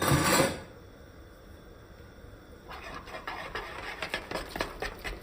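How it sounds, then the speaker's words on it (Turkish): Semolina and flour batter is stirred in a bowl for stone kadayif, giving a soft, close, irregular patter of wet scraping and sloshing strokes that follow a quieter stretch after a brief opening noise. "Tekrardan karıştırmaya devam ediyorum."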